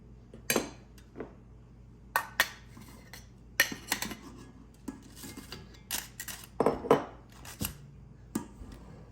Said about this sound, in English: we're going to use a spatula for that, and we're going to sift in the flour and fold that in